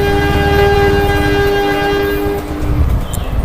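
Red amusement-park ride train circling a tree garden, with a loud sustained horn blaring over rumbling wheels and rail noise, close by.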